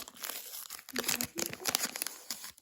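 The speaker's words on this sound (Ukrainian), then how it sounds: "Я хочу якось таку її відкрити, щоб не порвати пакетик." A paper packet crinkles and rustles in short bursts as it is pulled open, with a few brief tearing sounds.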